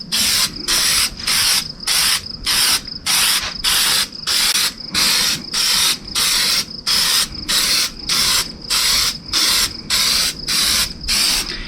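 Short rhythmic bursts of a paint spray gun coating a truck's replacement air tank, about two dozen evenly spaced hisses with brief gaps, loud and close with no talking.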